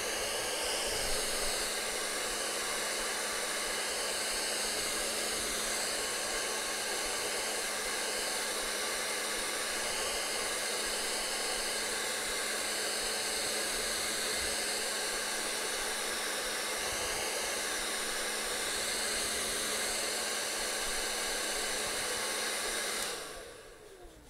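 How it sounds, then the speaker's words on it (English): A hair dryer blows steadily on a painted acrylic canvas, a loud, even whooshing hum with a constant motor whine that runs close and unbroken for over twenty seconds before cutting off abruptly at the end. "So at this stage, you should be drying your canvas."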